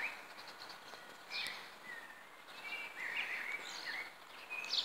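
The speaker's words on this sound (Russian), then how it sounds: "Птички поют, красота." Small birds singing outdoors in spring, scattered high chirps and short warbling phrases, fairly distant and faint over a steady airy background.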